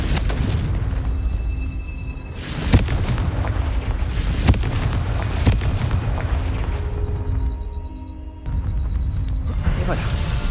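Repeated booming spell explosions cast as Confringo in the video game Hogwarts Legacy, several sharp blasts over a dense, continuous rumble of game effects and background sound.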